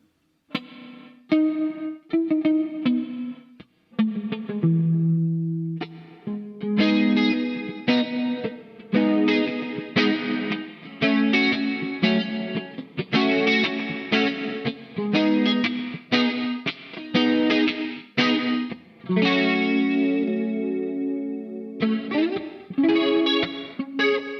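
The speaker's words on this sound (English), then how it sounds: "let's gate it with a flanger" An electric guitar through a Crazy Tube Circuits Sidekick Jr pedal, gated and run into a flanger, plays choppy, metallic, swirling chords and stabs in a steady rhythm, loud and close with no voices.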